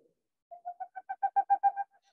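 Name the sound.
recording of a Boreal owl call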